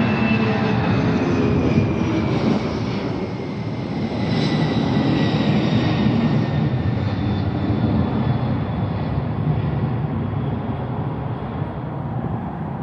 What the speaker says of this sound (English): Here comes a plane. Listen to this.